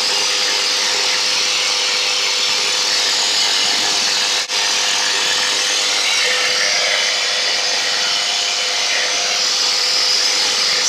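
Loud, constant engine drone from a powered trike lifting off with a paraglider wing, a steady broadband roar with a sustained tonal hum throughout, close and unbroken for the whole stretch.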